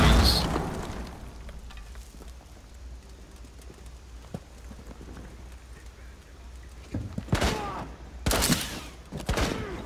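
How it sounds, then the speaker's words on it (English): Gunfire in Rainbow Six Siege, a House team deathmatch hostage match: a few scattered sharp shots through the middle, then loud clustered bursts of fire near the end, over a low steady game background. "They're shooting."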